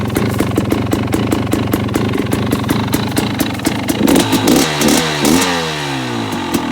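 A loud, buzzy two-stroke KTM 300 XC-W dirt bike engine idles with rapid popping pulses, then revs up sharply, its pitch climbing and falling, close by.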